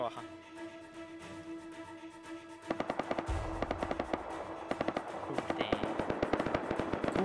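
Gunfire in the survival game Rust: rapid bursts of automatic shots in a dense rhythmic run after a few quieter seconds, heard under excited voices and tense game music.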